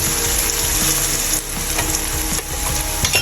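Spices, with turmeric, chilli powder and ginger-garlic paste, sizzle steadily in a hot pan while being stirred for a quail meat curry, with a loud continuous fry and occasional scraping clicks of the utensil.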